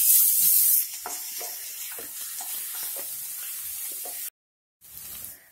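Peanuts and coriander dropped into a sizzling tempering for Khandesh-style brinjal bharit, a loud close hiss at first that settles into steady crackling fry with light stirring scrapes, then a brief silence.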